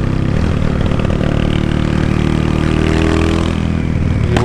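A Honda Today engine being broken in drones loudly and steadily close by, with small rises in revs over a constant throaty roar.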